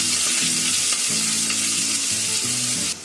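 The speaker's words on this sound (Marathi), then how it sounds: "आता त्याच्यामध्ये ही लसूण टाकते. 3 पाकळ्या लसूणच्या घेतलाय बारीक कापून. 1 कांदा कापून घेतलाय बारीक चिरून आणि 3-4 कढीपत्त्याची पानं आहेत." Garlic, onion and curry leaves fry in hot oil with a steady, loud sizzle and crackle throughout, broken by a few soft stirring scrapes and a low hum in the background.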